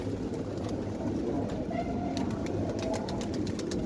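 Pigeons cooing nearby in a low, soft, repeated rhythm over a steady background hum, with no talking.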